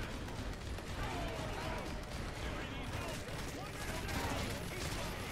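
Sustained weapon fire in the video game Earth Defense Force 5, a dense continuous rattle of shots and blasts filling the scene as a voice talks over the din.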